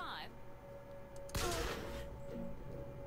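Gunfire in Bioshock Infinite, a loud burst of shots about a third of the way in that ring out over game ambience and sustained tones, with a sharp second flurry trailing off.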